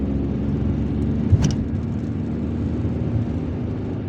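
Car driving through busy city traffic in Algiers, heading toward Birkhadem: a steady engine and road rumble continues throughout, with a brief louder bump or passing swish partway through.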